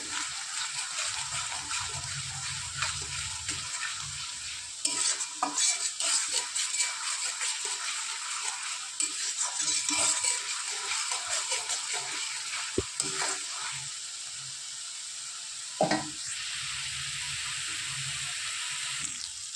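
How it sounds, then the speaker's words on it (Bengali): Chili and cumin powder stir-fried in a pan with fish and eggplant, a steady sizzle under frequent scraping and stirring strokes, with a few sharper knocks along the way. "দিয়ে দেবো লঙ্কার গুঁড়ো, দিয়ে দেবো জিরের গুঁড়ো। ভালো করে মশলা কষিয়ে নেব।"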